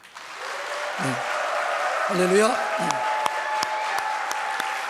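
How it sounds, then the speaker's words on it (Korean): A church congregation at a Sunday afternoon worship service claps together in steady sustained applause, with a voice speaking briefly over the clapping. "우리와 같은 박수를 해주세요"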